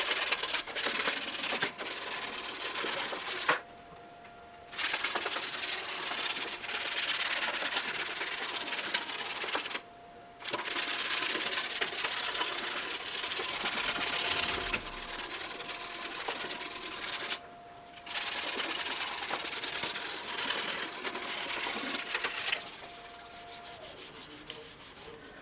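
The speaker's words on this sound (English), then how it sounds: "just a little bit more hand sanding" Steady hand sanding works out radial scratches on a piece, a continuous close rasping rub with a few brief pauses where the strokes stop, alone without talk.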